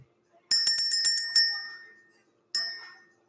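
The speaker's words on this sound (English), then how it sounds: "We're going to ring the bell" A bell rung to clear energy gives a rapid run of six bright metallic strikes, then one more ring about a second later, each left to decay in a quiet room.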